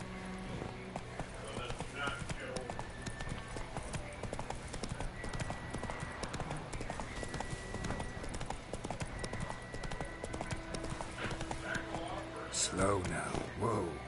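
Horse Roach's hooves clip-clop steadily through the Witcher 3 video game world, a continuous rhythmic trot under game music and ambience, with someone talking over it.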